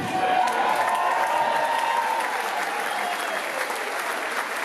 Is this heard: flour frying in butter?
no